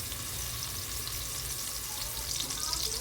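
Mint and coriander leaves frying in hot oil for egg biryani give a steady, close, even sizzle that holds unbroken throughout.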